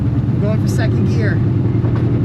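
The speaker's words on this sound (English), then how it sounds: "Going for second gear." A car drives on a public road after a shift into second gear, and its engine holds a steady, loud, low rumble throughout. A voice is heard briefly over the noise.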